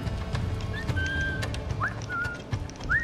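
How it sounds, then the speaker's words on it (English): Whistling to lure enemies in the game Assassin's Creed IV Black Flag: several short rising and level whistle notes spaced across a few seconds, heard over low ambient game noise. "I'm gonna have to whistle. I'm going to get very, very tired of whistling."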